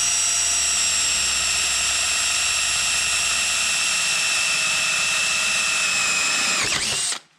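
A Norseman step drill bit spun by a power drill gives a loud sustained high-pitched whine that holds steady, then a short grinding crunch as it works through the material before stopping abruptly.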